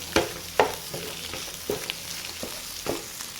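Egg and potatoes fry over a medium flame while a spatula stirs and scrapes the pan in about six distinct strokes over a steady low sizzle.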